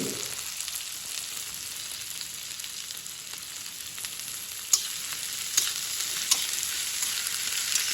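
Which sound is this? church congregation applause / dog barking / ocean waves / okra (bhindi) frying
okra (bhindi) frying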